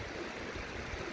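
White water rushing past a rock arch, giving a steady, dense wash of flowing water that stays close and even without pause.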